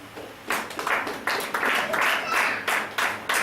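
A church congregation claps and cheers at a sermon, dense applause rising in repeated waves with crowd voices mixed in, fairly close and lively.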